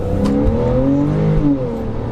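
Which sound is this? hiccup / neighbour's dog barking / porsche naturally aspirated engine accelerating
porsche naturally aspirated engine accelerating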